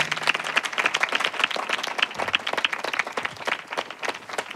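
A congregation at a Christian revival prayer meeting claps in praise of the Lord, loud, dense and somewhat rhythmic applause from many people that continues steadily without talk.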